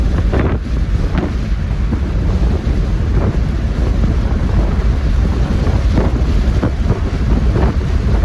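A car cruising at speed on an expressway, with a steady, loud roar of wind and road noise that fills the whole stretch and never lets up.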